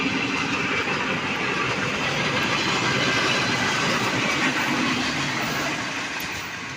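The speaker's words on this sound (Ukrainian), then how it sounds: "О, о, поїзд їде. Слухайте." A train rumbles past with a steady, dense roar and rattling clatter of wheels, holding strong before easing off slightly toward the end.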